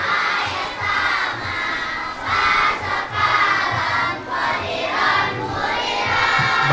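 A crowd of children at a lively Islamic sermon gathering shouting together in response, a loud, sustained chorus of voices rising and falling in several swells, filling the hall with no single voice standing out.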